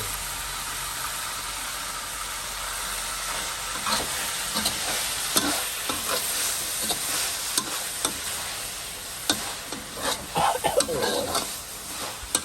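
Chili and holy basil stir-fried in a hot pan for Thai eel curry, a steady sizzle with scattered spatula scrapes and clinks that grow busier toward the end, close and with no talk.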